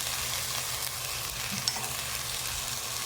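Spices, biryani masala and pepper for cauliflower pulao sauté in a pan, giving a steady, fairly faint hiss of frying with a small stir knock partway through and no talk.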